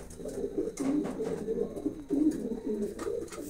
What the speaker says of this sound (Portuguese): Tá cheio de pombinho bonitinho aí, ó.